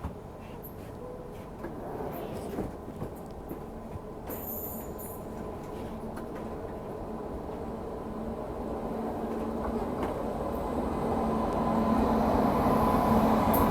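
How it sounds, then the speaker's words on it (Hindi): The Delhi Pathankot Express rumbles into a station, a steady low roll of wheels and carriages that slowly grows louder over the whole stretch, with faint squeals and no talking. "ये आ गई दिल्ली पठानकोट एक्सप्रेस"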